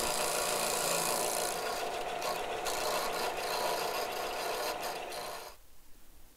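Sanding the rough cut edges of pipes by hand, a steady continuous rasping scrape that runs loud and close for about five seconds, then stops abruptly into near quiet.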